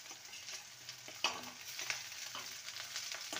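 Chopped onion and green chillies frying in oil for egg ghugni: a soft, continuous sizzle with faint spoon stirring and scraping clicks in the pan, quiet and close.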